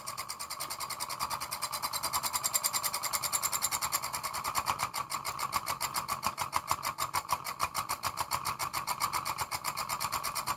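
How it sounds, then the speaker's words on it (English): A homemade Newman motor runs with its polarity reversed, making a steady rapid mechanical buzz with a fast regular pulse, close up and fairly faint, with no voices. "I actually have the Newman motor running in the opposite direction because I changed the polarity."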